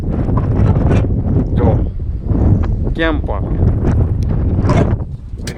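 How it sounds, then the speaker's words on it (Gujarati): Cold wind buffets the microphone at a secluded outdoor spot, a constant low roar running under close, continuous talking. "એટલો બધી ઠંડી હવા આવે"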